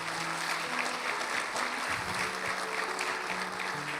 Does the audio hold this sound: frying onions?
no